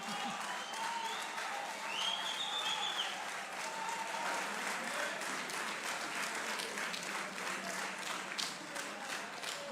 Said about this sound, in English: Can we give him a rounding applause?